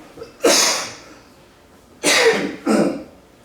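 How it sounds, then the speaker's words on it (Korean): Three loud coughs close by: one first, then two more after a pause, each trailing off with a breathy rasp. "기침해서 죄송합니다"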